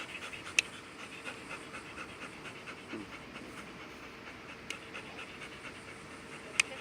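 Steady rapid panting from a working protection dog during military-style knife attack training, a soft continuous breathy rasp with a few faint sharp clicks, no talking.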